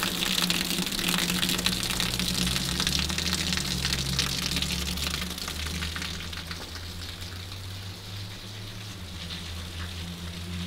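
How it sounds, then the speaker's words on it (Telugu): Heavy rain pours steadily outside a house, a dense, constant hiss of water with a low rumble beneath, close and loud throughout with no voices. "బయట అయితే వర్షము ఫుల్ స్టార్ట్ అయిపోయింది."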